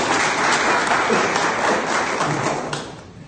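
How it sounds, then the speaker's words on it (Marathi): An audience at an eye check-up and cataract camp breaks into loud, continuous applause up close that holds steady and then thins toward the end. "त्यांच्यासाठी एकदा आपण टाळ्या वाजवू"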